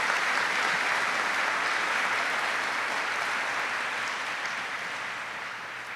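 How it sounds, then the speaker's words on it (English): Sustained applause from a crowd at a Warrant Officer Candidate School graduation ceremony, an even, dense wash of clapping that holds steady and tapers slightly toward the end. "Please join me in a round of applause for this outstanding team."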